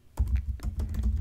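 Keys struck on a computer keyboard while a command is typed, a quick close run of a few crisp clicks with a low thump under each press, no talk.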